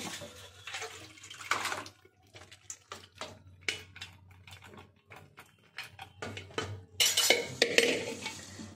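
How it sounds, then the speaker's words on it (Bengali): Cooked mutton tipped out of a pressure cooker into a dish, a series of close clinks and scrapes of metal with wet, sloppy splats and a louder clatter at the end. "এবার আমি মাংসটা ঢেলে আপনাদের দেখাচ্ছি।"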